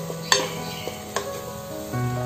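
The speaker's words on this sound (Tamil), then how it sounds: "வதங்கட்டும்" Onion-tomato masala mixed with curd sizzles softly in a pan for mushroom biryani, with a steady low frying hiss and a few sharp spoon clinks against the pan.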